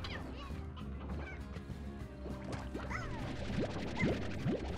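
Hen Hen chickens in the Slime Rancher video game cluck and squawk in short rising calls, several overlapping near the end, quiet against a low ambient background.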